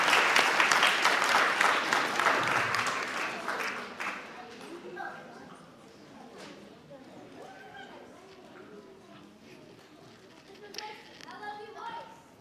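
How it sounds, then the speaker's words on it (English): Applause at a school assembly honoring American heroes, loud clapping at first that fades over several seconds into quieter room noise and scattered murmurs. "Can we give another round of applause to Ms. Lopresti, please?"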